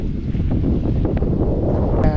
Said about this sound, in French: On a un peu de vent